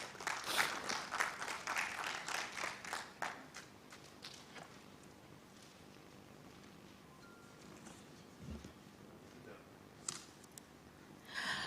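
Applause breaks out for a Nigerian digital economy minister at a youth capacity-development flag-off event, a burst of clapping in the opening seconds that fades into room murmur, with a few scattered claps near the end.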